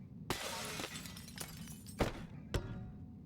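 Glass shatters in the Boneworks VR game, struck by a sledgehammer: a sharp crash with a trailing tinkle, then several heavy hard hits land one after another, loud and close.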